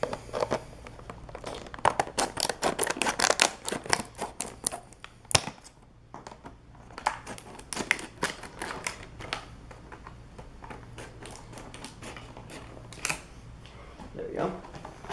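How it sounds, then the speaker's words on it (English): Scissors snipping and cutting open a toy train box, with crinkling cardboard and plastic, a series of sharp close clicks and rustles under intermittent talking. "let's grab my scissors and open his box"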